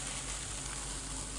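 An eggs and mushroom dish sizzles in a pan, a faint, steady crackling hiss with no voices over it.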